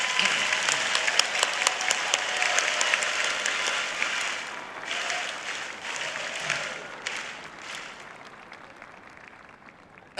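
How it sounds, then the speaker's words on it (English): Graduates at a fall undergraduate commencement ceremony applaud their seated faculty, a broad, sustained wave of clapping from a large crowd in a big hall that gradually tapers off. "join me in applauding them and thanking them for bringing you to this happy day"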